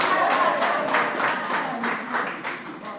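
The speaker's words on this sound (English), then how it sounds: "And the other men to give them a round of applause too." An audience at a Ministry of Health event claps in a steady round, many hands patting together at moderate loudness with faint voices mixed in.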